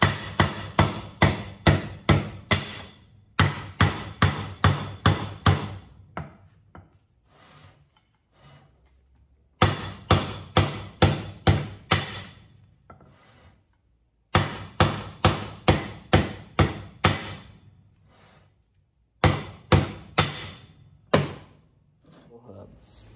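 A hammer knocks old wheel studs out of a trailer wheel hub in sharp, ringing metallic blows. They come in quick bursts of about six to eight strikes, separated by short pauses.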